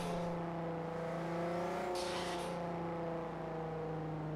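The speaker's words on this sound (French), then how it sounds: "La charge du turbo." A car in Forza Horizon 3 holds a steady engine drone with layered tonal harmonics, a brief hissy burst of turbo air rising partway through, continuous and moderately loud.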